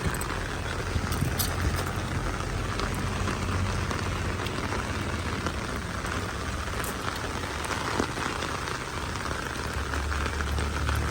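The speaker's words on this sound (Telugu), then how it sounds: "అలాగే బయట చూశారు కదండి ఎంత పెద్ద వర్షం పడతా ఉందో" Heavy rain pours steadily outside during a monsoon morning, a dense, continuous patter of drops on surfaces with no pauses, moderately loud and even throughout.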